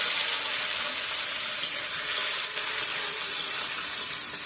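Chopped onion and garlic fry in a pan for a Bengali dish of taro stolons with prawns, making a steady, even sizzle with faint occasional crackles and no talking.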